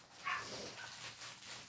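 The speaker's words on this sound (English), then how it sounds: "Sorry, my dogs." A dog gives a short, muffled bark or two from another room indoors, faint and brief against a steady background hiss.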